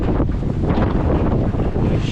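Strong wind buffeting outdoors at a worksite where wiring is being cleaned up, a loud continuous roar and rumble that fills the whole clip with no talk.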